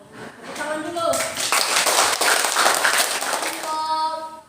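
Classroom students clapping together during a teacher-led lesson, a dense burst of hand claps in the middle with children's voices heard at the start and end.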